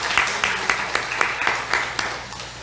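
Sparse, rhythmic clapping from a church congregation welcoming new members, a handful of hands beating in an even pulse, moderately faint in a room.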